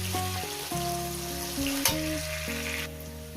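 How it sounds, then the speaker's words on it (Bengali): Potatoes and spices sizzle and fry steadily in hot oil, with light stirring, while background music with sustained tones plays. "এটাকে আমি পাঁচ মিনিট চার পাঁচ মিনিট ধরে ভেজে নিই"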